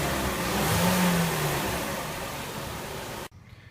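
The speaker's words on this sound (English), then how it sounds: "Now we're going to start the car and let it run." A 2014 Hyundai Elantra engine runs steadily at close range, with a brief rise in revs early on, then cuts off abruptly near the end.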